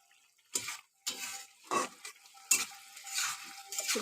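A pot of fish curry with bitter gourd leaves being stirred as it cooks, with intermittent scraping and bubbling bursts, close and quiet, with no talk.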